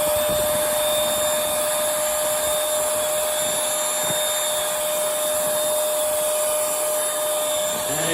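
A purple Bissell Featherweight stick vacuum, model 20334, runs in handheld mode with a loud, steady motor whine and whoosh that holds unbroken and close throughout.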